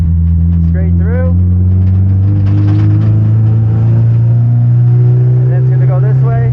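A 330HP Subaru STI drones loudly and continuously from inside the cabin as it laps a race track, the engine holding a steady tone with people talking over it.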